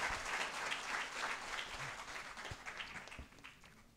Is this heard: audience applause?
yes